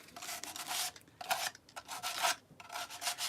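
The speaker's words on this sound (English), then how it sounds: "what I quite like doing is get my sanding pads and just fold them up" Folded sanding pads rub back and forth over wood in a home woodworking shop, making close raspy strokes in several bursts with short pauses between them.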